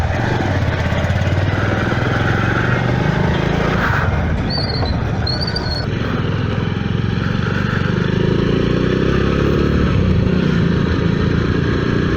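A motorcycle engine runs steadily at a petrol station during a refuelling stop on a ride to Kabini, a continuous close, loud drone with faint chirps in the background.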